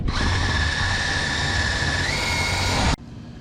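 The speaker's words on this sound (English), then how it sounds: "before I drill a hole in the exhaust" A power drill drills into a car's exhaust pipe, running steadily and loudly for about three seconds, its whine rising slightly in pitch partway through, then cuts off abruptly.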